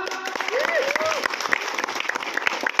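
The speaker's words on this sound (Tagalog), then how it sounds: "isa munang malakas na palakpak" Applause from a crowd gathered at a house blessing for a new mansion, steady dense clapping with a few cheering voices rising over it, fairly close and moderately loud for the whole stretch.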